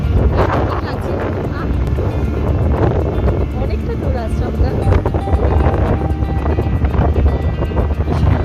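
Steady, rushing wind noise buffets the microphone throughout on a cold day while riding a scooter, with a person speaking briefly over the roar.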